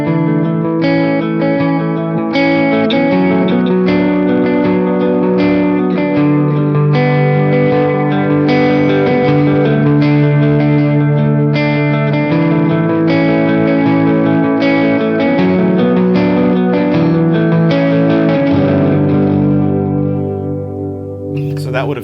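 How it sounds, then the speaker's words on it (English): Electric guitar picks chords through dotted-eighth and quarter-note delays, producing a continuous shimmering, echoing wash of repeated notes over about twenty seconds, played alone and fairly loud. "So with the dotted eighth note delay on and the quarter delay, it kind of sounds"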